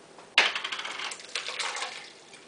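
Fermenting kefir with grains poured into a strainer: a sudden splash, then a thick, bubbly, gurgling pour that runs close-up for about two seconds before tapering off.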